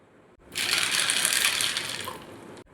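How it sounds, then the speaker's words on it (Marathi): Water gushes steadily into a bowl holding one cup of cleaned, washed chickpeas set to soak for chole, a bright continuous splashing pour lasting about two seconds, close up and alone. "आता याला भिजवण्यासाठी याच्यात टाकायचं आहे पाणी"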